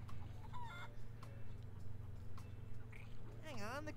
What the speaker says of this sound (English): It's a feral chicken.